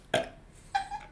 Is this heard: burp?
yes